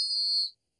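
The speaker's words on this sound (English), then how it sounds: "I didn't blow my work whistle" One short, shrill blast from a work whistle, loud and close, lasting about half a second with a steady high pitch before cutting off into silence.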